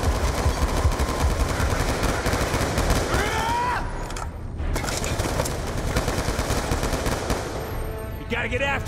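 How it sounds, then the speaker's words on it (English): Gunfire in the game Call of Duty: Black Ops II comes as dense, rapid machine-gun bursts and shots, loud and near, with a brief lull midway while voices shout in between. "Gunshots came from inside."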